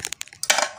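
A spatula stirring cake batter for steamed bakpau buns in a bowl, heard close as a few quick clinks and scrapes followed by a wetter smearing stroke.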